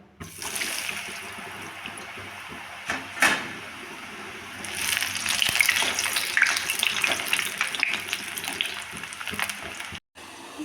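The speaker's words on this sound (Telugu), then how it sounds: "ఈ హీట్ చేసుకున్న ఆయిల్లో ఈ ఆలు పీసెస్ని వేసుకొని ఫ్రై చేసుకోవాలి" Potato pieces for french fries dropped into hot oil, giving a steady close sizzle and crackle with a sharp burst early on and a brief cut near the end, no voices.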